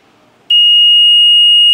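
Door alarm buzzer on a building alarm panel kicks in after a short quiet moment, a loud, piercing continuous electronic tone holding steady close by until the end, no talking.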